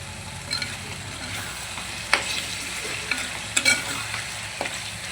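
A pot of bottle gourd chicken curry is stirred while it simmers, with a soft sizzle underneath and a few distinct clanks and scrapes of a ladle against the pot, close and fairly quiet.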